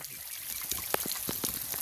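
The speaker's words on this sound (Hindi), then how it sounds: "इस प्रकार से पानी यहाँ बह रहा है" Water trickles down from about two feet above into a pit, with steady splashing and several distinct drips and plops over a continuous wash.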